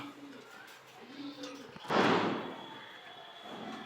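A pigeon coos in low, rolling phrases a few times, with a sudden thump and rustle of movement midway, followed by quieter cooing near the end.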